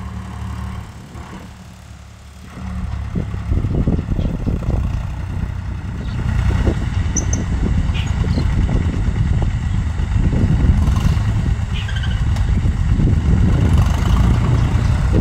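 Tractor ploughing a small field beside a crop of okra: an engine chugs steadily at close range, quieter at first and then louder and rougher as it works, with no voices over it.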